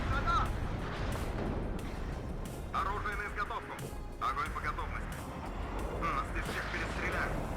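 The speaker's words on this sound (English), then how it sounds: "Here comes more artillery from the other side of the map." Distant artillery barrages in the Cold War strategy game WARNO rumble as repeated low booms and crackling impacts, with someone talking over much of the bombardment.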